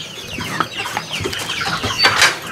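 Chickens clucking close by in a backyard pen while being brought larvae to eat, a run of short repeated clucks with one louder, higher call near the end, over light background noise.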